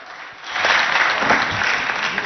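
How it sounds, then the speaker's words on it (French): Loud, dense applause from a school audience at a Chadian inter-lycée competition in Abéché swells in after a brief lull and holds steady as a broad, continuous wash of clapping. "on applaudit très fort pour eux"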